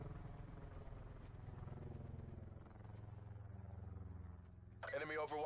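A helicopter in the shooter game Call of Duty Black Ops 4 throbs with a low, steady rotor drone under ongoing talk, ending with a brighter burst of game noise.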